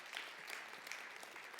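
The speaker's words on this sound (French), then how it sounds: "Je crois qu'on peut vraiment vous applaudir." Steady applause from a conference audience, a dense patter of many hands clapping at moderate volume throughout, with no one speaking.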